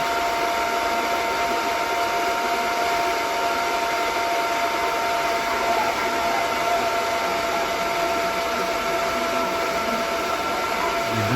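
An amplifier cooling fan powered through an adjustable voltage regulator whirs close and steady, a constant airy hum without breaks.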